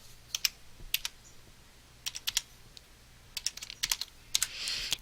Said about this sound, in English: Let me key in the password.